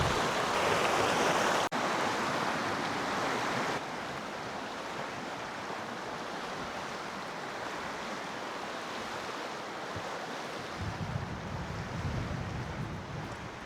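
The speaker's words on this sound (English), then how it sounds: "The wind's picked up." Wind blowing steadily across a spring hiking trail, a broad, continuous rushing roar that swells louder at the start and then settles into a constant whoosh, with no talking.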